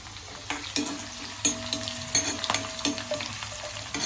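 Curry leaves, garlic and chili sizzle in hot oil, a loud continuous hiss and crackle with sharp spattering pops and stirring knocks, close and alone.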